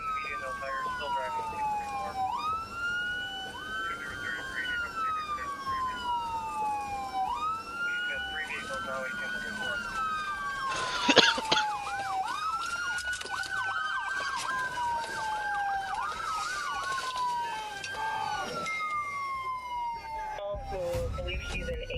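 An ambulance siren wails in repeated rising and falling sweeps that alternate with faster yelp passages, loud and close for a long stretch, with a short sharp burst of noise partway through and no talking over it.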